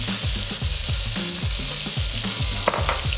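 Loud, close sizzling of peri-peri seasoned chicken frying in a pan, a constant crackling hiss with occasional stirring scrapes and no voices.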